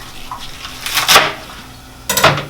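Swiss chard leaves sloshed and swished in water inside a bowl, two separate bursts of splashing and clinking against the bowl, close and alone.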